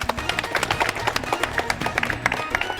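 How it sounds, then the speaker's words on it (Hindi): A crowd gives loud applause, with rapid, irregular claps close by and busy throughout. "जोरदार तालियां।"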